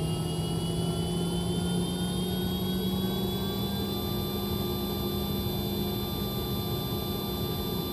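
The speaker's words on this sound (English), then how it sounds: "This is not the engine, it's just the APU." A Citation Sovereign+ business jet's APU runs steadily as heard from the cockpit, a loud constant turbine whine and hum with rising high tones, no voices over it.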